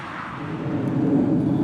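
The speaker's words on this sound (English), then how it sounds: "Some jet action overhead." Jet aircraft passing low overhead near a wet, dirty roadside, a broad roar that swells steadily and stays loud throughout, with no talking.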